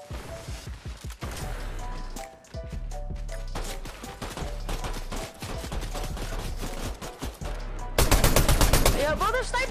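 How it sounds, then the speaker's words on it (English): Rapid assault rifle fire from a multiplayer video game, dense bursts of shots running nearly continuously and loud, with a sharper, brighter volley near the end; voices may be faintly present. "Those are assault rifles with sniper glare"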